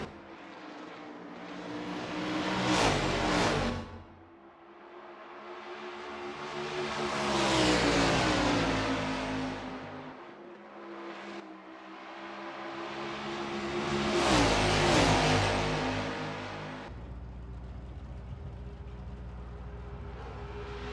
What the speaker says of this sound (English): Simon of the Desert is pushing his car to the very edge of traction on this qualifying lap